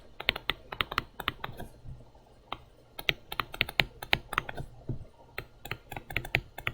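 Rapid clicking of computer keyboard keys as values are typed into an Excel spreadsheet, in irregular bursts of keystrokes, close and moderately loud, with no talking.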